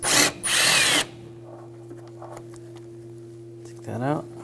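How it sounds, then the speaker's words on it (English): A power tool with a 10mm socket spins out bolts during a water pump job on a 2000-2006 BMW X5 3.0L inline-six, two short bursts of close, loud whirring, then quiet clinks and a brief voice at the end. "We're going to take these two bolts out"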